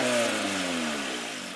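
A Honda B18 engine runs on an open header with no exhaust attached, a loud raw close roar that eases from a rev down toward idle over a second and a half.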